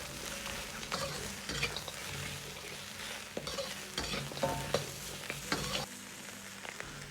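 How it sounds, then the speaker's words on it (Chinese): Drained pork ribs are stir-fried in a wok over medium-low heat, with a steady oil sizzle and repeated scraping, clattering spatula strokes that recur throughout, close and fairly loud with no talking. "保持中小火倒入控干水分的排骨煸炒"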